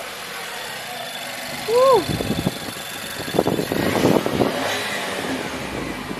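A car engine idles and revs through its muffler in short bursts, close by, with people talking and a whoop over it.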